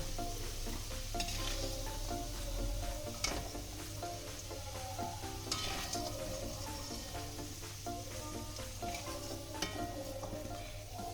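Potatoes frying in hot oil, a continuous dense sizzle and bubbling crackle held steady and close, with occasional stirring scrapes and no voices.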